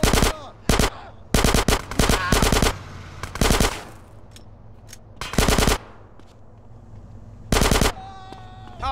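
Automatic weapon fire in the video game GTA San Andreas, several loud close bursts of rapid shots separated by short gaps, with a faint game voice between volleys.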